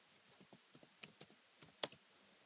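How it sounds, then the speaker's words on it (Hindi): Someone types a simple conditional-statement program on a computer keyboard: sparse, quiet keystrokes in an uneven rhythm, with one sharper key press near the end. "पता नहीं आज टाइपिंग में बहुत गलतियां हो रही है।"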